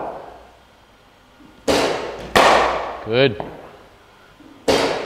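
Cricket bat striking the ball during a coaching session, with several sharp, loud cracks spread across a few seconds. A brief whistling tone sits between them, and a voice speaks a short word.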